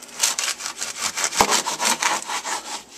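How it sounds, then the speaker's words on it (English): A knife cuts about an inch off the end of a hot, microwaved corn cob, giving a close series of rapid rasping, sawing strokes with one sharp crack partway through, and no voices. "the trick now is that you must cut at least an inch off the corn itself."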